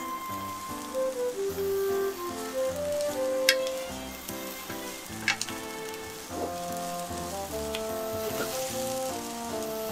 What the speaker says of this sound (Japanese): しめじを炒めます。